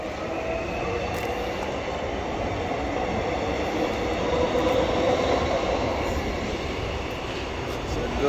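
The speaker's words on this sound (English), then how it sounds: "So there you go, the train right here in Boronia." A suburban train in Boronia, Melbourne, rumbles past nearby with a steady roar of wheels on rails, and faint wheel squeal rises midway.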